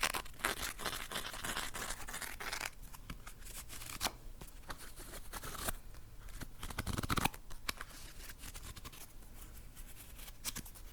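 Cosmic Tarot deck cards shuffled close up, a steady run of crisp riffling and sliding card noise with brief pauses and bursts, no talking.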